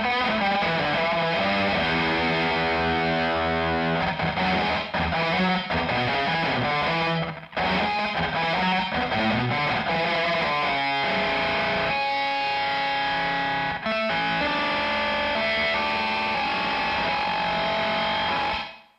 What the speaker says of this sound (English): a plate reverb.